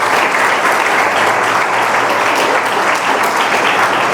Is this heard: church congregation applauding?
yes